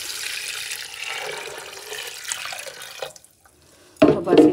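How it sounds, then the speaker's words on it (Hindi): Water pours into a cooking pot of mixed chana and urad dal with tomato paste, a steady splash that stops, then a louder burst of pouring at the end. "पानी डालूंगी, 3 गिलास में पानी"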